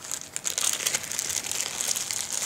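Close, crisp crinkling of plastic packaging being unwrapped, a continuous rustle with small bursts at a low level, no voices.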